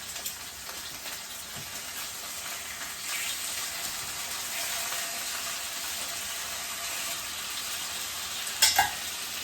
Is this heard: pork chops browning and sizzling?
yes